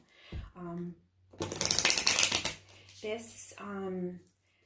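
Tarot and oracle cards being shuffled in a quick papery riffle lasting about a second, close to the microphone, with a person talking just before and after.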